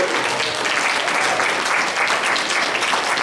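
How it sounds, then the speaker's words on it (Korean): A church youth congregation applauds loudly together during a Sunday service in Auckland, a full, steady burst of clapping lasting a few seconds. "박수 한번!"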